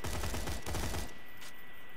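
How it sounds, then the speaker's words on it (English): Dahl weapon bursts in Borderlands 2 come as a rapid volley of gunfire lasting about a second, loud and dense, then cut off into a quieter tail with a faint extra crack. "shoots five bursts, six bursts."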